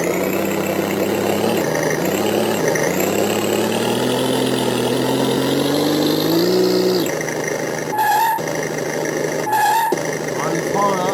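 An FDM 920 sound generator on an RC model car plays a synthetic engine note that idles, then climbs steadily in pitch as if revving, with abrupt shifts and short gaps near the end, under intermittent French speech.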